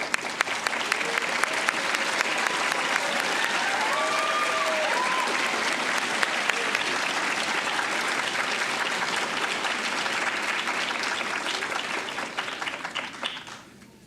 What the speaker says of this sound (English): So let's give everyone a big applause.